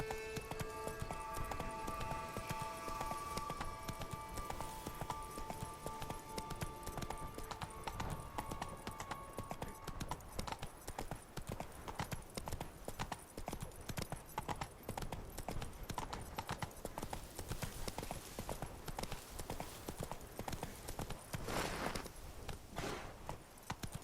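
A horse gallops with steady, rapid clip-clop hoofbeats in The Witcher 3, running continuously for the whole stretch, fairly loud and close, with music fading in the first seconds.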